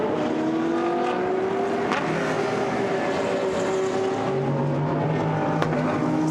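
GT race cars at the Misano circuit in a Blancpain GT Sports Club race produce a continuous, loud engine drone with rising and falling whine tones as several cars shift gears and pass.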